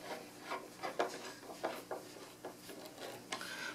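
Screws being driven by hand with a number three screwdriver into an Eames Lounge chair during assembly, heard as a series of quiet, close scraping and rasping turns with short pauses between strokes.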